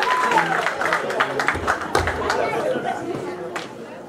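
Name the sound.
wedding congregation applauding and cheering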